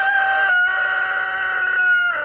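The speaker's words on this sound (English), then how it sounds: "There's my rooster saying hello to everyone." A rooster crows in one long, loud, steady call that holds its pitch for a couple of seconds, close by and with no voices.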